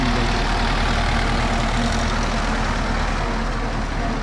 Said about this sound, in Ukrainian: А тут тракторець у нас